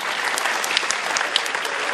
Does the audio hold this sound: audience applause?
yes